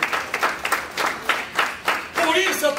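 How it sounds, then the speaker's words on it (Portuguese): A church congregation claps during a sermon, the applause loose and rising in separate bursts rather than a steady roar, with a voice speaking over it near the end. "Você pode aplaudir a Jesus nessa manhã?"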